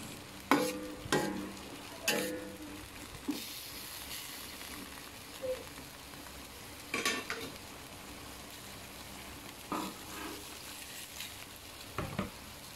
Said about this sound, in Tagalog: ngayon luluto na tayo ng ating pang-dinner. Ang adobong sitaw at talong.